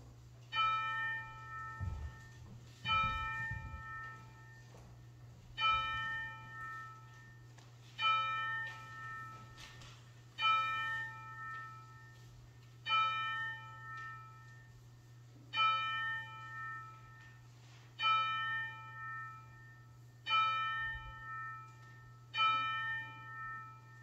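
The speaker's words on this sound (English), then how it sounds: "Then we will let the chimes bring us into worship." Church chimes ring before a worship service, a series of bell strikes at a slow, even pace, each tone ringing out and decaying before the next, with a constant low hum underneath.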